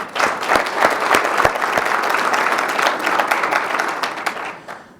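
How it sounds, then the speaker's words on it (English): A conference audience gives a round of applause, a loud crackle of many clapping hands with a few sharper individual claps, tapering off and fading out near the end. "If I could get a round of applause."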